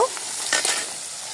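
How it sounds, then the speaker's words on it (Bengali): Rohu fish pieces fry in hot oil with a steady close sizzle and a brief crackling flare midway, no voices. "মাছটা ততক্ষণে ভাজা হতে থাক।"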